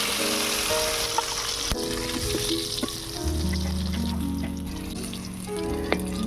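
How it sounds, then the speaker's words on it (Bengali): Okra pieces frying in hot refined white oil, a steady sizzle and crackle that holds up close throughout with no talking. "আবারও বাকি ঢ্যাঁড়সগুলো ভেজে নেব"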